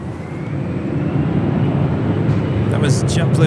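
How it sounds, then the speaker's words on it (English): A JetBlue Airways airliner in Puerto Rico livery lands at Los Angeles International Airport, its broad engine roar loud and steady throughout, rising slightly near the end as higher whooshing bursts cut in. "That was JetBlue Airways Flight 2217 in the Puerto Rico Blue Rica livery coming in from Charleston."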